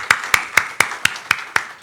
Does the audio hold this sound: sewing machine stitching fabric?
no